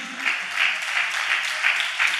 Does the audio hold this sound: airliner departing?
no